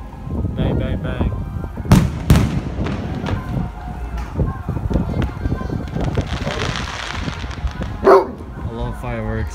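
Fireworks bang outdoors in a few sharp, loud bursts amid a dog's barking and people talking over them.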